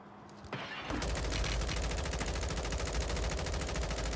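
Sustained rapid automatic M16 rifle fire in the video game Call of Duty Warzone, loud and continuous after a brief quieter start, with no talking.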